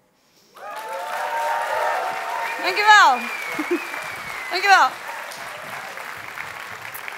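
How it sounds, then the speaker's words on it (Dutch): Sustained audience applause in a Dutch theatre evening about sexuality, a warm wash of clapping that swells midway. A voice speaks over it with drawn-out, rising and falling words. "Dit applaus"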